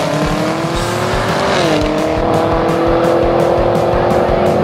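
A 2017 Chevrolet Camaro ZL1 on a quarter-mile drag run at Cecil County Dragway, a loud sustained engine roar that rises, dips at a gear change and climbs again, very close and dominant.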